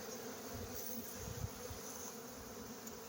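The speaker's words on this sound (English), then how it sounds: "you know the bees them are very efficient" Low, steady insect buzzing from bees hovering close by, a continuous drone that swells slightly at moments with no voices.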